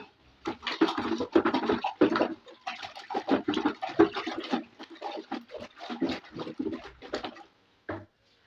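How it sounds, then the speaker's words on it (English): Homemade bleach detergent solution being stirred by hand in a container, giving a run of rhythmic scraping, sloshing strokes that repeat steadily and close by for several seconds, then stop with one brief final stroke. "So you continue stirring."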